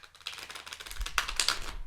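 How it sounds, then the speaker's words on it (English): A deck of playing cards being shuffled, giving a quick papery riffle and crackle that builds over about two seconds, close and fairly loud, with no voices. "I'm going to shuffle this deck."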